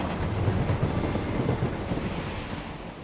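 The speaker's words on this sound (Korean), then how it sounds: "운행을 마친 싱싱이가 기차 마을로 돌아가고 있어요" A cartoon train from a children's animated series rolls steadily along the track on its way back to the train village, a continuous loud rumble of wheels and carriage noise with no talking.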